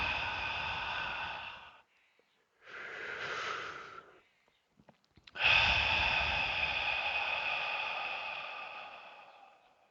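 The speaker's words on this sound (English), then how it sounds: "As we slowly begin to deepen our breath" Deep, slow meditation breathing: a long, airy inhale, a shorter breath after a pause, then a loud, drawn-out exhale that slowly fades, heard close and alone.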